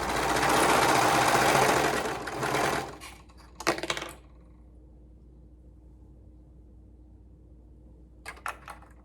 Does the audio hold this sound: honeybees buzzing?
no